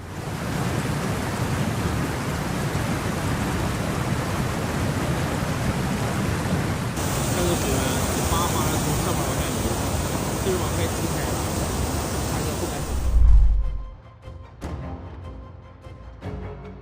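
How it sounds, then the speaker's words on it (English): Heavy rain pours down in Baotou, Inner Mongolia, a loud, steady wash of noise that rises into a harsher, brighter roar midway, then a sudden thump and the downpour drops away to quieter, scattered sounds. "Heavy rain in Bauto,"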